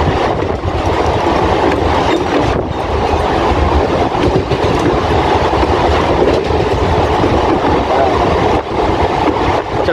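An Indian fast local train at top speed of about 90 km/h, heard from on board as a loud, steady roar of wheels and carriages with continuous clickety-clack on the rails for the whole stretch.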